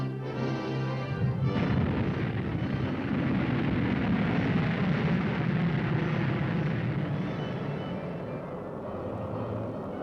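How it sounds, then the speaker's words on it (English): A Corporal missile fired during a live exercise at the Oro Grande range, a loud sustained roaring blast that surges in after a second and rumbles steadily for about ten seconds with no speech. "There, at the press of a button, the corporal is fired."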